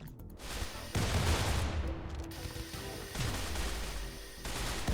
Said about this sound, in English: And they're also shooting the unrelated Muffalo